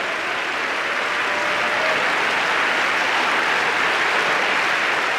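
A church congregation claps in sustained, loud, dense applause that stays even from start to finish, with no voices rising above it.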